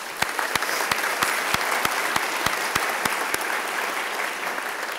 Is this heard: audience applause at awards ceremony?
yes